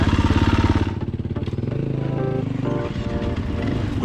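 Enduro motorcycles ride on a trail by a rock face, their engines close and loud with a throaty, pulsing rumble and shifting revs throughout.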